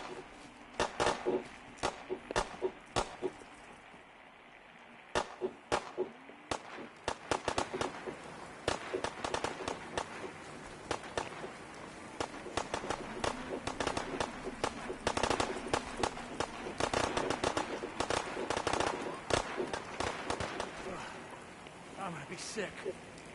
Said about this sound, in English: Is there people shooting at you?